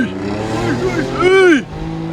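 A tuned 306 hp Mercedes C350 V6 coupé revs up sharply at a circuit, its engine note climbing and swooping in pitch before cutting off, loud and close, with talking beneath.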